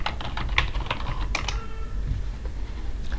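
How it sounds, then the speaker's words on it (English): Fingers tap a computer keyboard in a quick, uneven burst of close keystrokes, then the typing stops and only faint room noise remains. "you remember when we type ipconfig"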